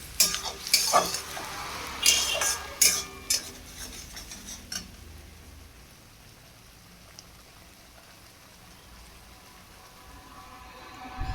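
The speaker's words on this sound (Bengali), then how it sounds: "মশলাটাকে আমি ভালো করে কষিয়ে নিচ্ছি" Spice paste frying in a pan for a red mutton curry, with a few loud scraping stirs and crackles early on, then a soft, steady sizzle fading to faint background, no talk.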